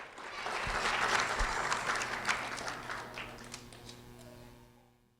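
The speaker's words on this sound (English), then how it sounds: "A round of applause for Killian." Applause from a school assembly audience welcoming a second grade student, swelling quickly then gradually thinning out and fading to quiet, with some sharp individual claps standing out.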